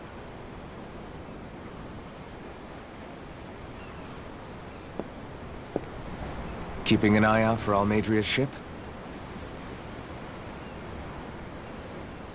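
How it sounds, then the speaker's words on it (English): Ocean waves in Tales of Arise, a steady wide wash of surf and wind heard aboard a boat, continuous throughout, with a character speaking briefly over it partway through. "I'm looking at the ocean."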